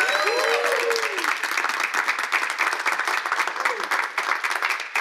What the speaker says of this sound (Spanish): dale tu mejor aplauso